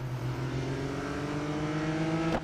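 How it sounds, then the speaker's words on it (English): A race car engine in the Real Racing 3 video game holds a steady, droning high-revving note with a rising tone, loud and continuous, with a brief sharp click near the end. "we're in first place. Just got 4 laps of sheer pain and frustration due to how slippery this car can be"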